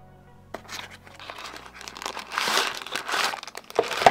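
A small plastic baggie of LED lamp kit parts crinkles up close, quiet at first and then louder with bursts of rustling and handling noise, with no talk.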